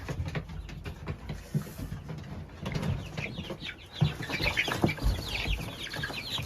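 Chickens cluck on a small off-grid homestead, busy overlapping clucks and squawks close by, with a brief flutter of wings and a dog moving around nearby.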